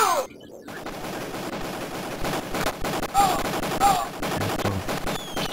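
Rapid bursts of gunfire in the Amiga 600 game Cannon Fodder 2, sharp repeated shots over a constant roar of action sounds.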